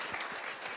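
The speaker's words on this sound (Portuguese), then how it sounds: "Salva de palmas para ele e para todos eles" Brief burst of audience applause at a public talk, moderately loud, dense clapping throughout the short moment.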